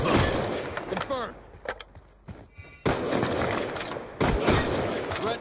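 Gunfire in Black Ops 2 multiplayer, with sharp bursts of shots and rapid automatic fire in close, loud clusters, and voices chattering in the gaps.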